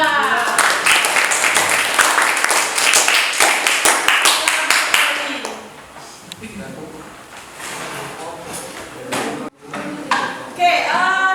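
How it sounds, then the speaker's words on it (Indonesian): A classroom group claps in sustained applause that fades out, followed by a speaking voice and a brief second burst of clapping. "Beri tepuk tangan untuk kelompok 2"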